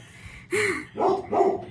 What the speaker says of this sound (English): Ignore my dog barking.